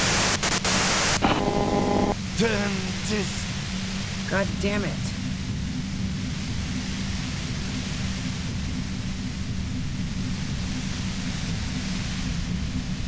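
Radio-like white noise static hisses steadily through a scene in the Disco Elysium video game, after a few sharp electronic blips at the start; a man briefly swears under his breath over the constant crackling hiss.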